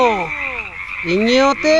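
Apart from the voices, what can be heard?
frog croaking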